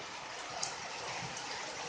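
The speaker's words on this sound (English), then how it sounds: "Look at that rain." Heavy rain pours down steadily in a strong thunderstorm, a dense, even hiss of water without a break, close and fairly loud.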